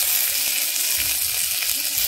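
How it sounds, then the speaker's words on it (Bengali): Chopped tomato with Kashmiri chilli powder sizzling in hot oil in a frying pan, a steady bright hiss of frying that carries on evenly without talk. "এবারে টমেটোটা দিয়ে দিচ্ছি।"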